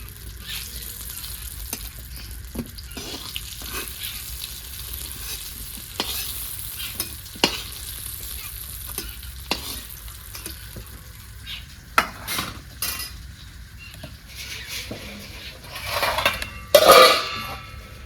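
Eggplant slices half-frying in hot oil in a pan, a continuous sizzle with repeated scraping stirs of a spatula and a few louder knocks of the pan toward the end.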